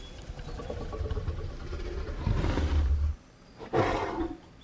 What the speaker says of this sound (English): Roar, please.